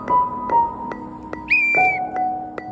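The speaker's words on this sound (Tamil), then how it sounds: "நல்ல சத்தமா ஊது ரெண்டு விசில் ஒன்றா வச்சு" A whistle blown in repeated short sharp blasts, then a longer two-tone shrill blast, loud and close with no talking.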